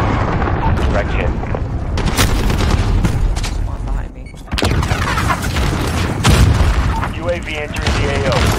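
Missile strikes in the video game Modern Warfare boom in heavy, loud explosions mixed with gunfire during a hardpoint match, while radio voices talk over the blasts.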